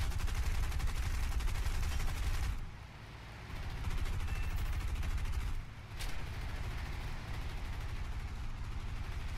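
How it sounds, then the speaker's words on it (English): Sustained video game gunfire, a dense rattling barrage running almost throughout with brief dips in intensity, fairly steady and loud with no talk over it. "Someone's shooting me."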